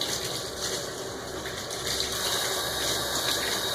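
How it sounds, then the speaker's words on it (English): A bucket pressed down into a tub of warm water during hand-washing of cloth pads, making a continuous gushing, churning slosh that holds steady throughout with no talking. "I put the bucket in the water and I kind of press it"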